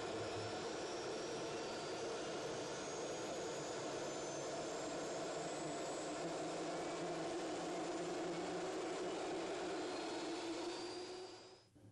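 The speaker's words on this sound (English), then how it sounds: "run the engines at idle speed for 5 minutes with bleed air in the off or closed" Williams jet engines running at idle speed give a steady, loud whine and roar with a high whistling tone that holds unchanged throughout and fades at the very end, with no voices.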